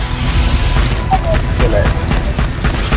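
Gunfire from the co-op shooter game Borderlands 2 crackles as a dense, continuous barrage of shots and blasts, loud and steady across the whole moment.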